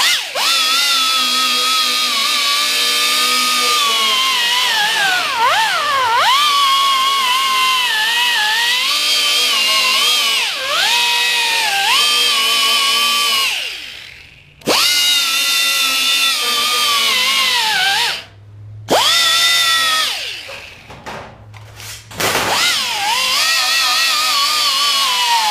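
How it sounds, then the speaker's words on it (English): Pneumatic polishing machine working brass leaves, a loud, close, high whine that holds steady with pitch dips under load and a few brief stops and restarts. "To the final polishing machine."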